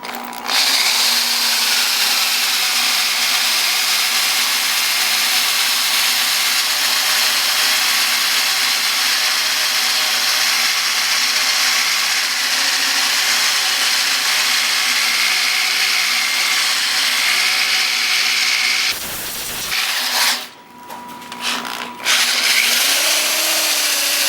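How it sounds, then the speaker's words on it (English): A DeWalt power drill bores into wood, running steadily and loudly for about twenty seconds, its pitch shifting slightly under load, then it stops abruptly and there is clattering. "the pressure required to drill with the Dewalt is much easier"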